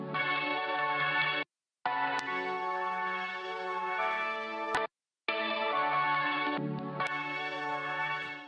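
A Faded Keys synth preset from Cradle Audio plays sustained, bright keyboard chords in three held phrases separated by brief silences, clean and alone.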